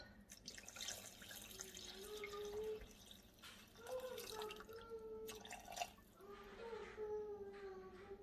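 Water, 400 g of it, is poured into a Thermomix bowl over a sun-dried tomato and merguez sauce for capellini, making a steady trickling splash that runs beneath a person talking throughout.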